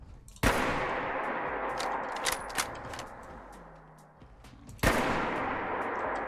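Two sharp, loud shots from an Orsis 17 sniper rifle in Fallout 4, spaced about four seconds apart, each a crisp crack followed by a long reverberating tail, with small clicks between.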